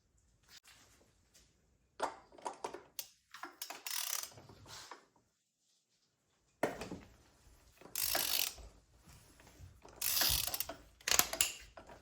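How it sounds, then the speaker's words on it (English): Ratchet turning a 36mm socket on a swivel and long extension to remove the oil filter housing on a Volvo 3.2L inline-six, in several bursts of rapid clicking separated by pauses, close and loud. "You're going to grab a 36mm socket with swivel, long extension, and ratchet."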